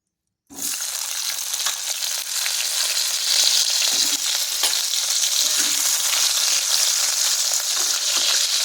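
Potatoes frying in oil: after a brief silence a loud, close sizzle erupts and holds a continuous, bright hiss to the end.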